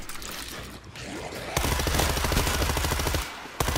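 A shotgun fires in the World War Z video game on icy Moscow streets, with loud, dense bursts of blasts packed closely together that stop abruptly, then one more sharp shot.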